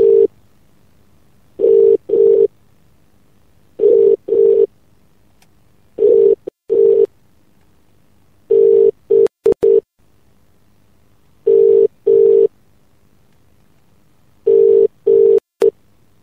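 A telephone ringing tone plays while a mobile phone is being called, loud and clear, with short double-pulse rings repeating at regular intervals separated by silence.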